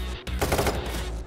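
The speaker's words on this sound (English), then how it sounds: "Chains, shoot him for crying out loud!" Short burst of automatic gunfire from a heist shooter game, Payday 3, a rapid loud volley lasting about a second amid a firefight.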